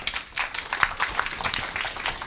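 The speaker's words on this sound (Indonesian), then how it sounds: "Tepuk tangan sekali lagi untuk Aga" A small audience at a book launch claps for a performer named Aga, a short patter of scattered hand claps at moderate volume with no talking.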